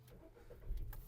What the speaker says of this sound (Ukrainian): Двигун запускається гарно,